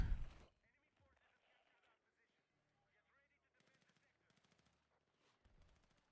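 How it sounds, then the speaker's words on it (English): Video game gunfire from enemy soldiers firing in a war shooter, a loud burst at the start and then repeated faint rapid volleys in the distance, with quiet talk in between. "There's guys shooting from the right."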